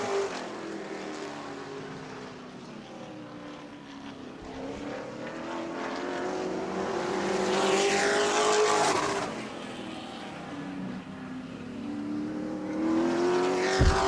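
Pro trucks race past on an Auburndale qualifying lap, engines droning loudly and steadily with rising and falling pitch as they come around, one swelling pass near the middle before the roar settles and builds again.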